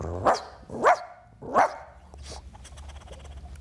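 A male actor imitates a dog, the cartoon terrier Milou from Tintin, with three loud, close barks followed by softer panting breaths.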